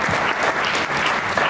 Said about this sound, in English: Please join me to applaud the efforts of Niscom and all the volunteers and sponsors of this year's event.